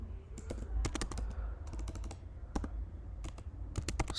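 Code being typed on a computer keyboard: quick irregular bursts of close, crisp key clicks with short pauses between runs, heard alone without talk.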